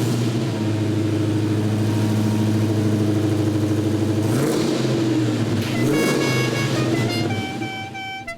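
The engine of a 1969 Hellcat Charger idles with a loud, steady rumble through the exhaust, then revs up and settles as the tone shifts, heard close with no talking.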